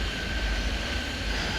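Planes landing in the airport management game Airport Madness 3D: a steady, continuous low engine rumble with a thin whine above it, at an even level throughout and with no talk.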